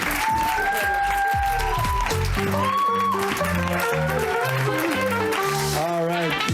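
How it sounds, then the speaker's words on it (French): A comedy show audience breaks into applause for a comedian, with steady clapping running under an announcer's voice and music playing throughout. "On peut applaudir Gabo Ouellet, mesdames et messieurs"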